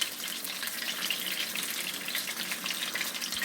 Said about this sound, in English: The fish is actually still sizzling.